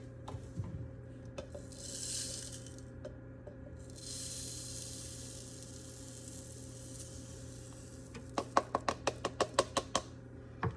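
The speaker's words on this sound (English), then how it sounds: "what I like to do with mine is I like to grind it up and make it a nice fine, close to like powdered sugar" Coarse turbinado sugar is ground finer toward a near-powder texture, heard as gritty rubbing bursts followed by a quick run of rhythmic grinding clicks near the end, close and fairly quiet.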